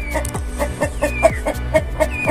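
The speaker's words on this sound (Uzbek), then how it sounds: "Xo'roz asabda." An agitated rooster in a new coop clucks close by in a quick, repeated series of sharp calls, about two per second over a short stretch.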